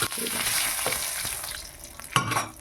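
Cumin seeds and bay leaves crackle and hiss in hot oil in a pan, a loud steady sizzle with a sharp flare near the end as more spice goes in.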